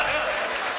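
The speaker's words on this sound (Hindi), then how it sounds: "ताली बजाइएगा एक बार," Audience applause at a Hindi kavi sammelan poetry recital, a dense wash of clapping heard briefly and loudly throughout.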